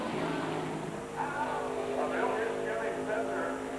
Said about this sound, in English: that car looked really fast getting down into turn 1